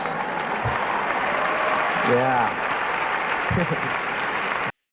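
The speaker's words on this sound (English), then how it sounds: "The audience laughs and claps as Spade finishes his funny impersonation." An audience claps and laughs loudly and continuously after a comedian's celebrity impersonation, a sustained wash of applause with a brief voice calling out.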